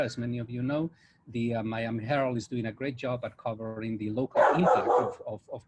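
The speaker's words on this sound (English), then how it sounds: "That's my dog in the background" A pet dog barks in the background of a home in Miami, Florida, with one sharp burst near the end, largely masked by someone talking steadily over it.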